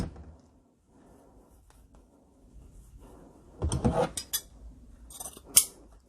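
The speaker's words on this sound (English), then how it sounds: "now I'm just gonna let this lay out and just come in and cut off" Scissors snip off the end of a ribbon while a fall pumpkin wreath is being made: faint handling rustles, then a few crisp close cuts and a sharp final snip in a quiet room.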